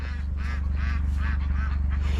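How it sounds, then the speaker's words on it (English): Ducks being fed at an animal run honk repeatedly in a rapid, rhythmic series of nasal calls, close and loud over a low steady hum. "here they come a-waddling, or whatever ducks do."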